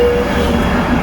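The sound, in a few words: aeroplane flying overhead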